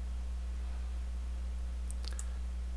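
A computer mouse gives a few quick, faint clicks in close succession near the end, over a steady electrical hum with no talking.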